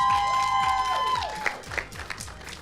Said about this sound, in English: everybody in the audience, give a round of applause for an amazing dish here one more time